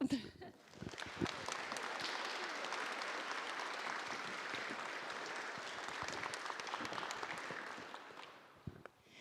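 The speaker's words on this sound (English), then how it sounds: "And we want to once again give you a tremendous round of applause." An audience at a university teaching, learning and research symposium applauds teachers with a steady wash of clapping from many hands, starting with a few sharp claps and tapering into scattered, individual claps at the end.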